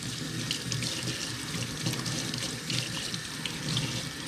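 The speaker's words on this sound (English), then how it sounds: "Wash your knife, you're done with it." Tap water runs steadily into a kitchen sink while a knife is washed, a close, continuous splashing hiss with no talk.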